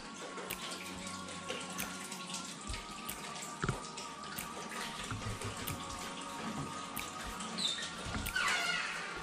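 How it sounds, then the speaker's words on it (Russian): Water runs steadily into a deep sauna pool indoors, a continuous faint splashing rush with small drips and clinks, heard alone and fairly quiet. "Тут как раз набирается сейчас вода."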